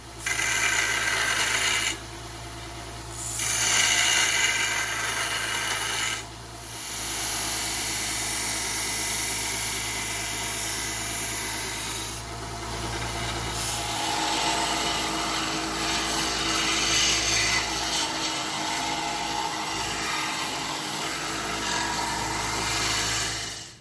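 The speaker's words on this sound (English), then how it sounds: "let's work on some grinding" A steel knife blade being ground in a shop: a continuous loud whirring grind with steady motor hum, briefly dropping and resuming a few times, then shifting to a rougher, brighter tone for the second half.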